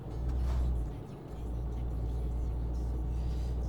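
A garbage truck engine in Euro Truck Simulator 2 rumbles at a steady pace, with a brief dip before it carries on droning, moderately loud.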